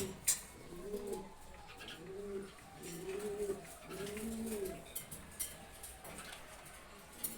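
A pair of racer pigeons coo softly in repeated low rolling phrases, four or five in a row, with faint ticking and small knocks around them.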